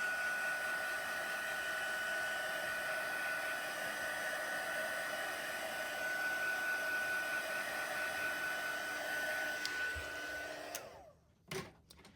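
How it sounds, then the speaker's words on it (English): A heat gun blows in a steady, close whirring rush while drying watercolor paper, then clicks off and winds down near the end. "let me just take the heat gun to this for a minute to make sure it's good and dry"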